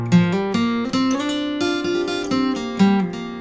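A simplified guitar riff rings out alone, a clean, close melodic line of plucked notes with short bass walk-downs.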